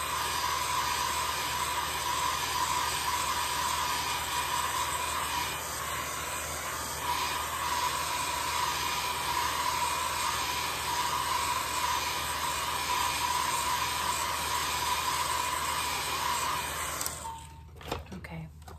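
A heat dryer blows a steady, loud whooshing hiss while drying an art journal page, running continuously for nearly twenty seconds before cutting off at the end.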